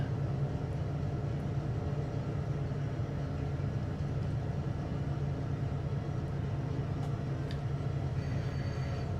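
A train rumbles past at a constant loud level in the video game Farming Simulator 25, with a dense low-frequency roar and faint metallic rattles running through the whole stretch.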